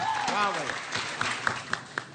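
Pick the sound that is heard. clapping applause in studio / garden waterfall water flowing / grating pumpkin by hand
clapping applause in studio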